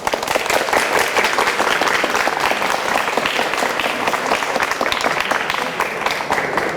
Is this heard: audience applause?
yes